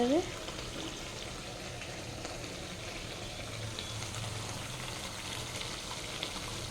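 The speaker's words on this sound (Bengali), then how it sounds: "দেখো এদিকে চিকেন রান্না করছি" Chicken frying in a pan with carrots and potatoes nearby: a steady, soft sizzle continues evenly throughout at a moderate distance, with no clear pops or breaks.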